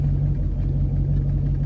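A Ford F350 crew cab pickup with a 460 engine idles close by, a deep steady rumble with a slight rhythmic throb and no voices over it.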